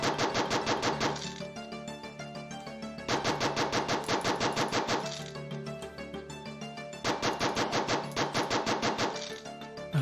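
Rapid automatic gunfire in the zombie shooter video game Generic Zombie Shooter - Redux, three sustained bursts of fast, even shots with short gaps between them, loud and without talk.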